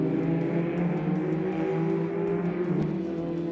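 Formula Ford race cars in an Investchem race power past on a circuit, engines whining and revving at high pitch, with changing pitch as the cars accelerate and pass, fairly distant and steady.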